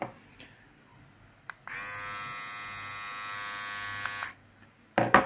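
A Hatteker SK 1619 electric hair clipper, powered by a 3.0-volt FF280 motor, runs with a steady, loud, close buzz for about two and a half seconds before switching off, with brief handling noises before and after.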